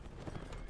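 A fast horse gallops in a medieval combat game, its hoofbeats making a quick, dense clip-clop close by in a short burst.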